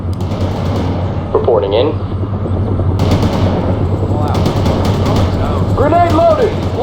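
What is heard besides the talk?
Bradley machine gun fire in video game World in Conflict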